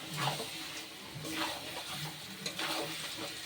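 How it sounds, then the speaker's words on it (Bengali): Pre-fried potatoes being stirred into browned mutton curry, a soft continuous sizzle with repeated scraping stirs at a close, moderate level. "এবার এই আলুটা দিয়ে ভালোভাবে মিশিয়ে নেব।"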